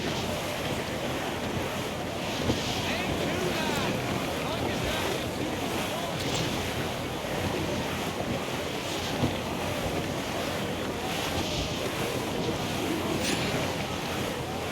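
A sailing ship rides a squall in the pirate game Assassin's Creed Black Flag, with constant loud roaring wind and crashing waves and faint creaks over the steady rush.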